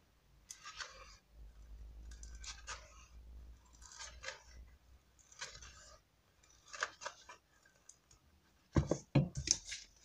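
Scissors snipping away excess EVA foam on a handmade craft top hat, a series of crisp close cutting clicks in short bursts, ending with a few louder snaps.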